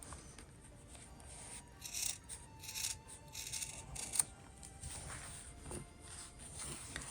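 Scissors snip through the fabric seam allowance of a handmade sewn wallet, a run of soft, close, quiet cuts and rustles repeating irregularly with no talk.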